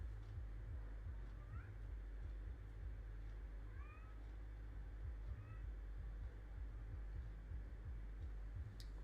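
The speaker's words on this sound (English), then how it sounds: "Now, the kitten's up here as well." A kitten meows indoors: a few short, rising meows spaced several seconds apart, quiet against a steady low hum.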